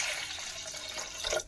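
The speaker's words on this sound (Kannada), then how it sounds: "ಇದಕ್ಕೆ ನೀರು ಹಾಕೋಣ" Water poured onto washed lentils in a cooking pot, a brief soft splashing pour that trails off after a second or so.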